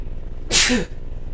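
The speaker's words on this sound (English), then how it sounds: "I'm going to sneeze again." One sharp, close sneeze bursting out abruptly with a breathy hiss and a short voiced end, standing alone against quiet background noise.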